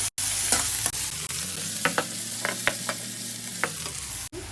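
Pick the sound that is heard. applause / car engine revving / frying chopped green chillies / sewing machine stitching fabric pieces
frying chopped green chillies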